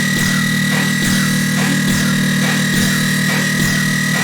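Layered, sidechained dubstep synths in a dense, gritty wall of sound that pumps in a steady rhythmic pattern, loud and continuous with no voices.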